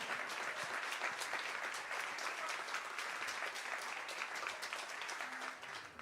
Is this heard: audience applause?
yes